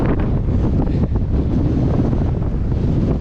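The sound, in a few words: strong wind blowing across a field in Alaska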